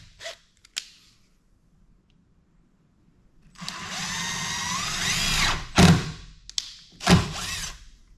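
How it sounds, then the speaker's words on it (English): Power drill boring holes for a DIY cable railing, a sustained whirring run of about two seconds followed by short bursts, with scattered knocks and thuds before it starts. "Now that both of those are drilled"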